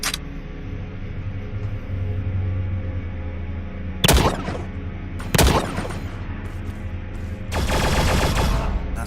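Weapon fire and allied robots battling in the open-world shooter The Signal From Tölva: sharp, loud bursts break over a steady low hum, two single blasts followed by a longer sustained volley near the end.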